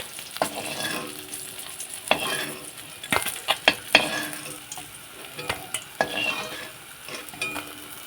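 Fish frying in a pan, a steady sizzle punctuated by repeated clattering knocks and scrapes of a spatula against the pan and pieces being turned.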